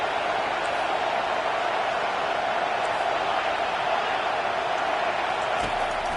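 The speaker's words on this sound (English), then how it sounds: "This crowd, full throat, splitting the eardrums and letting them know it's going to be a long day." Loud, steady roar of a packed college football stadium crowd at full volume, a dense unbroken wall of cheering and noise lasting throughout.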